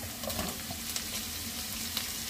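Pork frying in a pan for macaroni soup, a steady soft sizzle with a few faint clicks and stirs, close and unbroken by talk.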